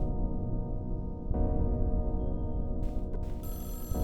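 A telephone ringing in the horror video game Mothered, a loud, sustained electronic ring layered over a droning game backdrop, with a bright tone entering near the end.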